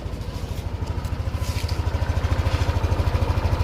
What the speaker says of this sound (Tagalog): Tapos ipaparinig ko sa inyo yung makina.